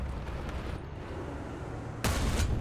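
A tank cannon fires once in War Thunder while driving a T-34 Prototype, a sudden loud broadband blast near the end that follows steady engine rumble and rolls on with a booming tail.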